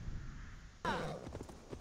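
A horse's hooves clip-clop on the ground in Assassin's Creed Valhalla, a quiet, steady run of soft hoofbeats that starts abruptly partway through.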